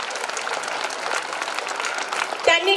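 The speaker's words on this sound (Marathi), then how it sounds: "आपण सर्वांनी एकदा जोरात टाळ्या वाजवून सर्व टीचर्सचे वेलकम करावे" Parents at a school annual function applaud to welcome the teachers, a dense, even wash of clapping from a large crowd that swells slightly at the end. A brief sharp sound cuts in near the close.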